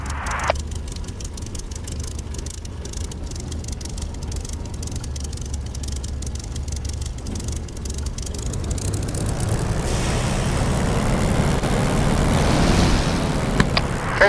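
A Spitfire's piston engine in the DCS flight simulator runs up as the throttle is opened to 1,500 RPM, a steady propeller drone that swells louder and rougher over the latter half.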